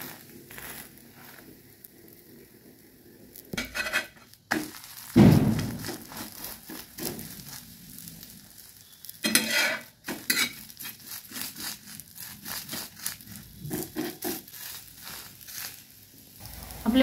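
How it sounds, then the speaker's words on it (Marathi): Egg flatbread (anda poli) cooking on a hot pan with oil, turned over to brown both sides: soft intermittent sizzling with scraping and clinks of a spatula and pan, near and moderately quiet, no talking. "एकदम गोल्डन ब्राउन असं भाजून घ्यायचे दोन्ही साइडनी, आलटून पलटून"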